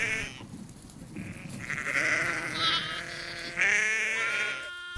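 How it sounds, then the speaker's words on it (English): Sheep bleat on open hill pasture, several animals calling in overlapping, wavering cries at close to moderate distance, with a louder bleat toward the end. "These sheep live on the hills for most of the year, with little contact with humans."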